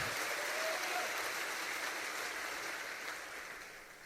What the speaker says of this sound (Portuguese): Aplauda o Senhor uma vez mais, igreja.